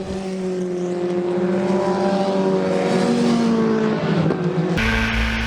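A swarm of historic 1600cc Formula Ford race cars from the 1960s and 1970s screams past on track at Silverstone, loud revving engines layered and shifting pitch as they race close together, a new engine note cutting in near the end.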